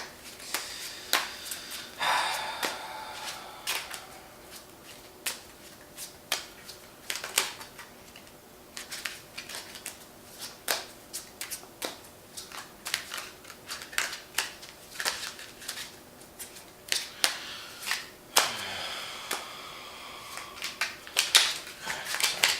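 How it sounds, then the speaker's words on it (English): Repeated crisp snaps and riffles of tarot cards being shuffled, irregular bursts close up over a quiet room, continuing for a long stretch. "So we're going to go ahead and shuffle the cards"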